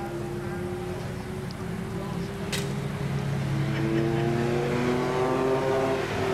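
Sports and GT race cars run on a circuit at a 2014 race, engines droning and rising in pitch as they accelerate, steady and moderately distant with a brief sharp noise midway; commentators talk over the engines.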